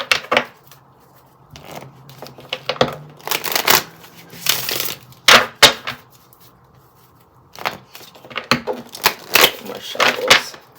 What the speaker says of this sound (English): More shuffles.